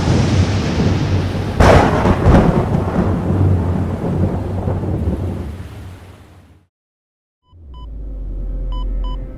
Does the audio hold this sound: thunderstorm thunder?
yes